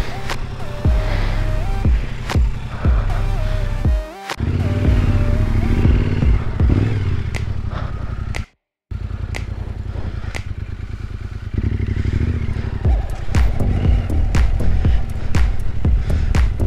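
Motorcycle ridden on a winter trip through Turkey, engine droning close and loud with shifting revs, clattery wind and road noise, a brief dropout midway, and some talk underneath.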